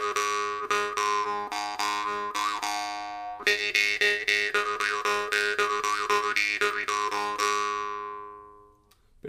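A small brass jew's harp is plucked in a quick, steady rhythm, a melodic run of bright twangs with clear shifting overtones and short sustain, ending in a fade.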